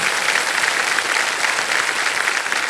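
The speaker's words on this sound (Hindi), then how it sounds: "तालियां बज जाएं इनके लिए।" Studio audience on the KBC (Kaun Banega Crorepati) set breaks into steady, dense applause, a continuous wash of clapping at full strength throughout with no speech over it.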